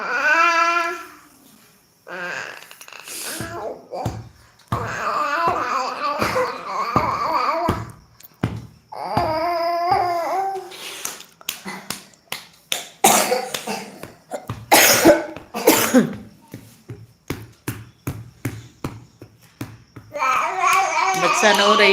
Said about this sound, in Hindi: जब उसको सुलाते हैं तो आ की आवाज़ करता है